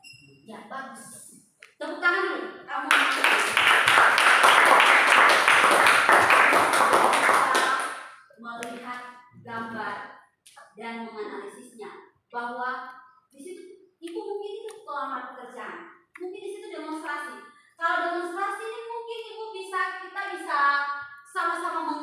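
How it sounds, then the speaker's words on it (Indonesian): Students in a university classroom clap together in a short, dense burst of applause lasting several seconds, followed by a teacher and pupils talking. "Tepuk tangan dulu."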